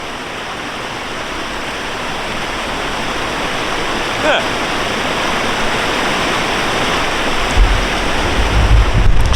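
River flowing right beside a person outdoors in Cornwall, a loud, steady rushing wash of water close to the microphone. A voice speaks briefly, and some wind buffeting is heard near the end.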